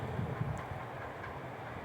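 Inside a moving train heading toward a station, a steady low rumble and rushing noise fill the carriage evenly, with a faint rattle near the start.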